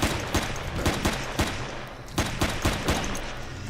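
Rapid bursts of gunfire from the video game Empyrion Galactic Survival, a run of sharp, loud shots in uneven clusters over a dense, noisy game background, with no talking.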